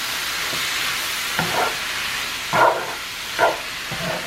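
Shrimp and their juices hit a hot pan, giving a steady close sizzle broken by a few louder bursts of spatula scraping and stirring.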